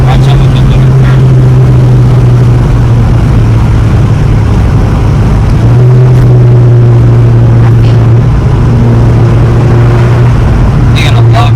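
A 2019 Honda Civic Sport with an AEM air intake drives along, its engine droning loud and close with a steady tone that dips and rises as the revs shift, and cabin noise throughout.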